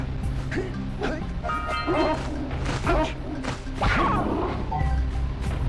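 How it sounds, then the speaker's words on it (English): A dog in the video game Jak and Daxter gives several loud barks mixed with crashing, smashing game effects and thuds. "I think we petted the dog too hard."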